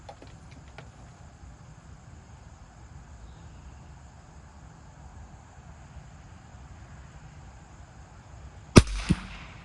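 A single sharp, close gunshot cracks from an Australian No 2 Lee Enfield .22LR rifle after a long stretch of quiet outdoor background. A brief smaller clatter follows the shot.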